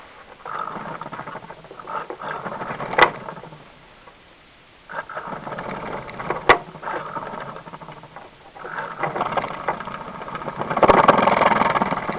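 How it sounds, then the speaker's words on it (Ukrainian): A small motor whirs steadily with a buzzing, rattling hum that cuts out briefly and starts again, close by. "Ось у нас моторчик крутиться."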